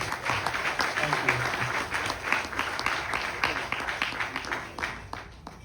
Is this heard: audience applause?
yes